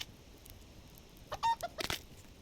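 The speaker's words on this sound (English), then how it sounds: "let's butcher the chicken." A chicken butchered in the survival game Subsistence gives a few short clucking squawks and quick sharp sounds clustered in the middle of an otherwise quiet stretch, with no voices.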